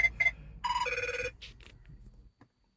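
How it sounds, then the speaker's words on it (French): Mobile phone ringing with an electronic ringtone: a few quick tone bursts, then a sustained ringing phrase that fades out, fairly close and with no speech. "vous aviez entendu mon téléphone portable sonner"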